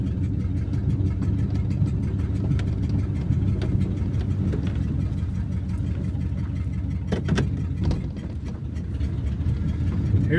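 An old Ford flathead car engine idles steadily with a low, even rumble and light mechanical ticking, close and continuous, with a few brief clicks near the end.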